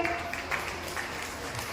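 An audience at an education trust event in India gives a brief burst of applause, a dense, steady patter of clapping that carries on for just under two seconds.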